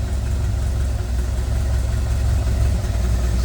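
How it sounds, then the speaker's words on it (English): A 1928 Model A race car with a four-port overhead valve head conversion idles in a steady, low, throbbing rumble, close and continuous without voices. "I'm just going to let it idle down a little bit."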